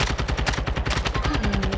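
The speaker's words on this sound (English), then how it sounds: "It's a gun all the way over here." Rapid automatic gunfire crackles in dense bursts in Call of Duty: Modern Warfare II, loud and nearly continuous across the whole moment, with sharp repeated shots stacked close together.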